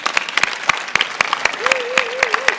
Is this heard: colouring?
no